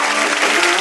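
Audience applause at a magazine-programme awards ceremony as the winners walk onto the stage, a dense, steady wash of many hands clapping close and loud with no voices over it.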